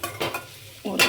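Grated coconut being sautéed in a pan, with short bursts of stirring and scraping over a soft sizzle, a few quick strokes close by with brief gaps between them.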